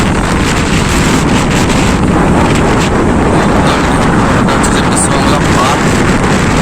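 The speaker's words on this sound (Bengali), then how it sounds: "সমুদ্রের ঢেউ দেখতে পাচ্ছ পুরো উত্তাল ঢেউ দেখো" Rough, churning sea waves roar continuously at Digha beach after a cyclone, a loud dense surf rush heavily buffeted by wind on the microphone.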